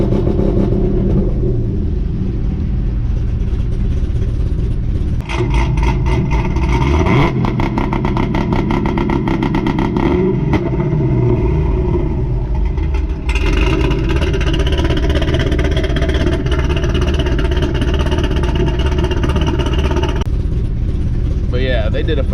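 A Pontiac GTO with Kooks long tube headers and a Corsa cat-back exhaust holds a two-step launch, its engine roaring loud and continuous with stuttering, popping rev-limiter bursts, close up while someone talks over it.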